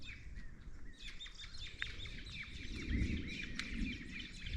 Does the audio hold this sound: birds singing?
yes